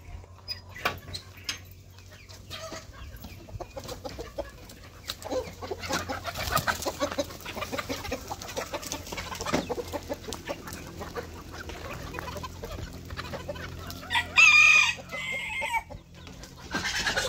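Backyard chickens feeding on scattered greens such as coriander, with soft clucks and scratching pecks throughout and a short louder call near the end, moderately close.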